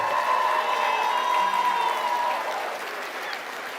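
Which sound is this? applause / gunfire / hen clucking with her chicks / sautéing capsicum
applause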